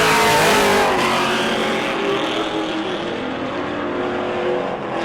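A Pro Late Model race car on a qualifying lap at New Smyrna roars loudly past at full throttle, its engine note holding a strong, steady drone that eases slightly as it moves on.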